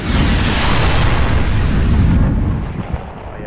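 In the Arma 3 video game, a drone launches a shot that lands as a loud, sustained roaring blast, broad and heavy like an explosion, fading over its final second with no voices present.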